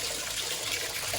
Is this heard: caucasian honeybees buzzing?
no